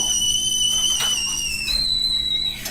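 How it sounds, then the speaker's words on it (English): A kettle whistles steadily in a high, piercing tone that shifts pitch partway through, loud and continuous with no talking. "Let me stop that whistling."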